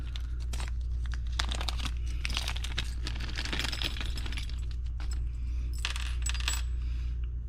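Small metal tools from a Burris FastFire 3 red dot mounting kit for a Walther Q5 Match SF clink and rattle as they are handled, in repeated light bursts over a steady low hum.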